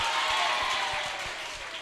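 Church congregation applause at a Kinyarwanda worship gathering, a steady wash of clapping with a few distinct louder claps standing out, slowly tapering toward the end.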